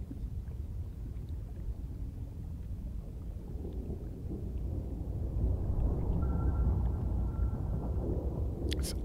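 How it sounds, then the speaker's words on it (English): Low, steady rumble of distant thunder or a thermal vent heard underwater in Subnautica Below Zero, swelling slightly louder midway with a faint tonal hum joining near the end and no talk. "It's either a thermal vent or thunder from a storm up on the surface."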